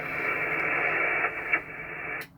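The noise floor of the 40-meter amateur radio band comes through a receiver as a steady hiss of band-limited static for about two seconds. It then cuts off abruptly with a faint click, and no voices are heard.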